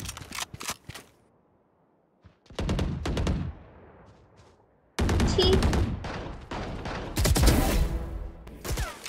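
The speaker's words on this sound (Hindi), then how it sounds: "इतनी दूर से शॉटगन" Shotgun blasts and bursts of gunfire ring out in a first-person shooter match, coming in loud, sharp clusters separated by short silences, with several rapid volleys near the end and no talking.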